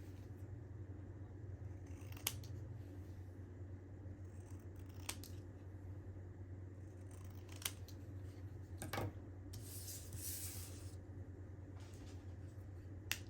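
Scissors snip paper scraps for handmade tags: a handful of short, crisp cuts spaced a couple of seconds apart, close and quiet over a low background hum.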